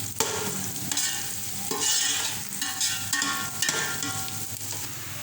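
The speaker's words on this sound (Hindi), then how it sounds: "डाल इसको भी हल्का सा गोल्डन कर दूँगी लहसुन को।" Garlic fries in a pan for bhindi masala, a bright, steady sizzle with bursts of spatula scraping and stirring, close and loud, with no voices.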